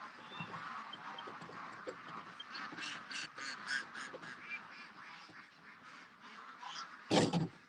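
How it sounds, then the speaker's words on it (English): Ducks quack at dusk near a pond, out of the water. A scattered series of moderately distant calls runs throughout, with one louder, closer burst near the end. "there's still a fair amount of ducks down in that area, though."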